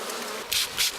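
Feral honey bees buzzing close by in a light rain, a steady drone swelling into two loud, short bursts as the insects move near.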